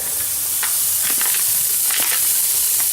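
Bacon lardons sizzle in a cooking pot with no added fat, a steady close hiss with brief crackling pops throughout.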